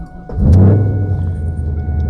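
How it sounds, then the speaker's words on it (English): A fourth-generation Chevrolet Camaro SS engine cranks briefly and fires up, catching with a loud close rumble that settles into a steady, throaty idle. "we're gonna go ahead and fire up the 4th Gen here and take a little spin in it"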